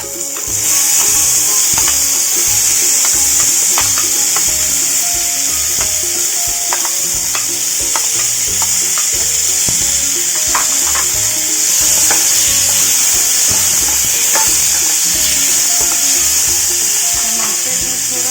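Spices and tomatoes sizzle and fry in a hot pan, a steady dense hiss with frequent light scraping and stirring clicks, close and loud throughout.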